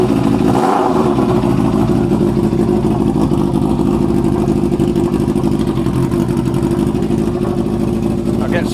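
Motorcycle engine running steadily at a loud, close idle after its electrical fault is fixed and it gets spark again, a constant mechanical rumble with slight clatter throughout.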